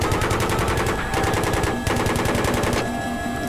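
Sustained machine gun fire from a helicopter gunner in Battlefield 3, loud and continuous rapid bursts with brief gaps, alone without talk.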